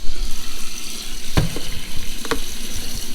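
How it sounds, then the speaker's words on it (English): Hot water runs from a handy faucet into a sink while grill grates are being cleaned, a steady hissing flow with a couple of brief knocks, close and alone without talk. "So I have this nice handy little faucet here. I can turn that on hot."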